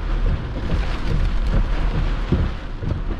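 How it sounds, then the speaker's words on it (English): Storm wind and heavy rain in Iowa during a storm chase, a steady loud roar of gusts and pouring rain with low rumbling surges throughout. "Here's the wind."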